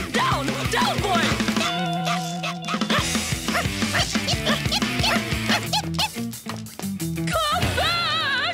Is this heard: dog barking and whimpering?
yes